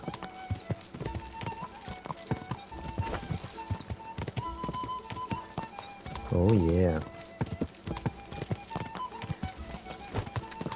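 Horse hooves clip-clop at a fast riding pace in Kingdom Come Deliverance 2, a steady rhythmic patter running throughout alongside background music, with someone talking over it.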